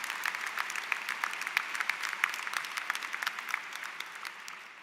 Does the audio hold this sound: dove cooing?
no